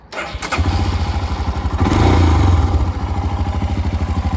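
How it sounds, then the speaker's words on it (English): A Royal Enfield Himalayan motorcycle engine cranks and catches, then settles into a rhythmic, fairly quiet idle close by with a steady pulsing thump. "turning on the ignition, waiting for it to do its thing, and then hitting the starter switch"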